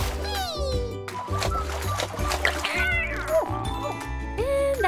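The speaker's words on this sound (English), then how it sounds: "These cats love the water." Cartoon cats meow and yowl in a busy kitty pool, several high, sliding cries overlapping with water splashes over a continuous bed of background music and sound effects.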